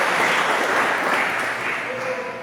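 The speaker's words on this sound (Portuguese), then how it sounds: "Vamos aplaudir o Senhor por isso." Church congregation applauding during a family worship service, a dense steady wash of many hands that fades slightly toward the end.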